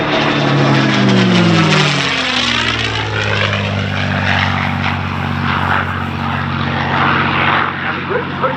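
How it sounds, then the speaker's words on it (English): A P-51 Mustang with a Merlin engine passes at an air show, its loud propeller drone sweeping down in pitch as it goes by and then holding a steady, close roar under a public-address announcer's voice. "as the Merlin, the P-51, brings it home."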